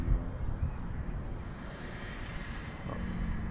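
Traxxas Monster Slash 4x4 RC truck with its electric motor under gradually applied throttle during a speed test outdoors, a steady broadband whir with wind rush, holding fairly even throughout.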